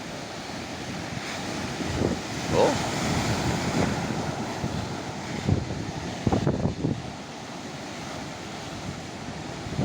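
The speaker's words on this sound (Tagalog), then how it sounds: "Grabe ang alon yan." Heavy typhoon surf surges and breaks in a rolling roar with strong gusts of wind across the microphone, several louder wave crashes standing out; a man's brief exclamation is heard once.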